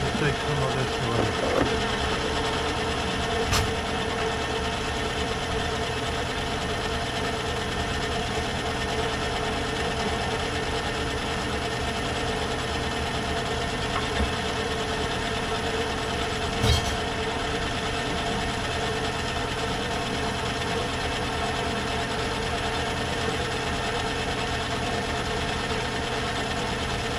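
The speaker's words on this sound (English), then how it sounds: "I've got a really small gear on the engine drive, so it's humming a little" A small gear on the engine drive of a metal bandsaw hums steadily and mechanically throughout, with a faint ratcheting texture and two brief sharp clicks, and no speech.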